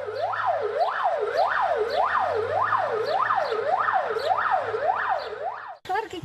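An ambulance siren wails in a fast, regular up-and-down cycle, loud and close, running continuously for several seconds before cutting off abruptly.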